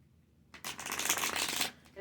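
Tarot cards shuffled in quick riffles, a dense crisp flutter starting after half a second and running about a second before easing off, fairly close and with no talk over it.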